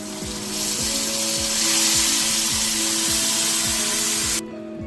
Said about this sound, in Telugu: చింతపండు రసం వేసుకున్నాం.